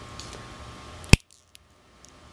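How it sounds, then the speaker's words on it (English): The green plastic housing of a Hubsan H107D quadcopter camera is snapped off. A single sharp crack stands out against a quiet room, followed by a couple of faint small clicks. "let's get rid of this green plastic housing"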